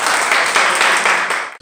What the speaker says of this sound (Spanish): Un aplauso para este grupo.